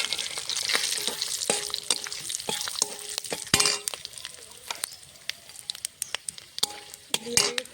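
Whole spices frying in hot oil for egg pulao: bay leaves, dried red chillies, peppercorns, cloves, cinnamon, cardamom and cumin seeds, with a close crackling sizzle and repeated sharp clinks of a utensil stirring against the pan, no talking.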